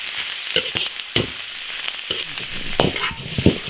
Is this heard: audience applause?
no